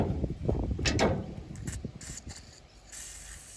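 Short hissing bursts of WD-40 aerosol lubricant spray close by on a Chinese three-point-linkage wood chipper, mixed with clicking and mechanical rattling.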